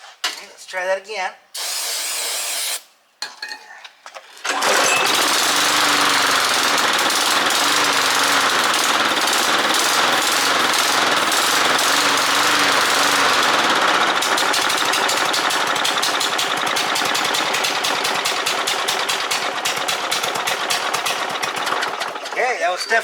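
A lawn mower engine sputters through a few short bursts of attempted starts, then catches and runs loudly with a rough, rattling drone for most of the stretch, close by, with no talk over it.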